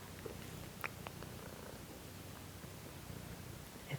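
A domestic cat purrs softly and steadily, a low continuous rumble close by in a quiet room, with a few faint clicks and rustles scattered through.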